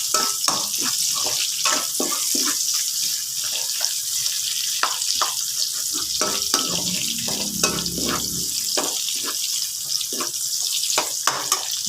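Olive oil sizzles in a pan as greens are sautéed for adobong kangkong, a constant loud hiss dotted with sharp crackles and pops.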